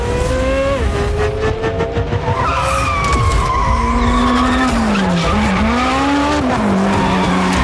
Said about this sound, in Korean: 드디어 원수 휴먼의 드리프트 기능이 생긴다고 합니다